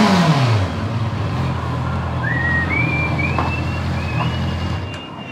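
Honda CB650R motorcycle on its stock exhaust, a loud close engine that drops after an opening rev, then settles into a rough idle, with a few rising tonal whines above the rumble.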